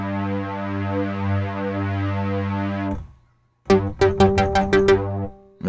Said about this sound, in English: You can hear the synth in the background.